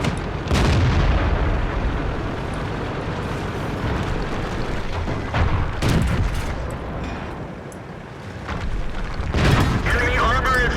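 Artillery fire booms repeatedly during a World of Tanks match, several heavy thuds and blasts landing amid continuous battle rumble, with a player's voice talking over parts of it.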